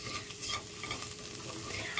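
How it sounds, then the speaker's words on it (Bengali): Chopped vegetables sizzle in a pan while being stirred and salted, with a soft, steady frying hiss and scraping stirs throughout a short, close moment without talk. "চলো এগুলোকে একটু একটু লাল হওয়া পর্যন্ত ভেজে নেব"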